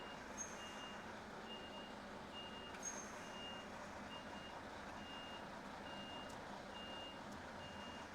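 A big truck reverses, its backup alarm beeping in an even, repeating rhythm over a low, faint engine rumble from a moderate distance.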